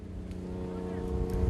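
A work boat's engine hums low and steady off Busan while crews lift a buoy at sea, a droning motor rising slightly in loudness with faint knocks over it.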